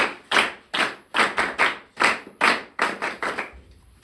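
Clapping at a defence coaching academy session with cadets: about a dozen sharp, close claps in a fairly even rhythm, a few landing in quick pairs, then stopping abruptly near the end, with no talk over them.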